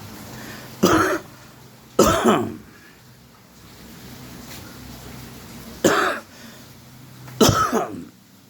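Four harsh coughs burst out, spaced apart with quiet pauses between them, close to the microphone.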